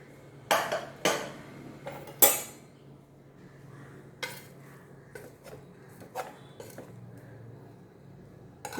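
Pressure cooker lid being opened after full pressure release while cooking green gram (pachai payaru) for a masala: a few sharp metallic clanks and clinks of the lid and pot, then softer scattered taps in a quiet kitchen.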